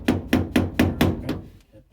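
A hammer drives a punch pin out of a door handle on a 1937 Hudson with five or six sharp, evenly spaced metallic blows, close and loud, with no talking.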